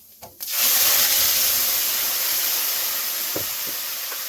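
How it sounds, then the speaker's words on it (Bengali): Cumin seeds and bay leaves hit hot mustard oil for a vegetarian curd-and-spiny-gourd dish, bursting into a loud, steady sizzle after a brief clatter, then hissing on evenly and fading slightly. "এখানে সর্ষের তেল দিয়ে দিয়েছি, ফোড়নে দিয়ে দিচ্ছি জিরে তেজপাতা"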